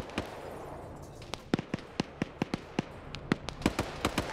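Shotgun fire in the online shooter game, heard as a steady string of sharp, fairly faint reports about every quarter second over a muffled background rumble.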